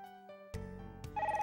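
A telephone ringtone plays inside the video game Tokimeki Memorial as a soft, short electronic chime with a few tones, preceded by brief menu blips.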